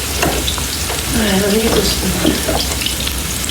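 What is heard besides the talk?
onions sizzling in olive oil in a pan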